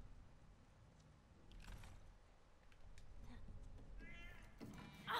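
A cat meows in the video game The Last of Us: Left Behind, a sudden sharp yowl near the end. Quiet ambient game sound with faint creaks comes before it.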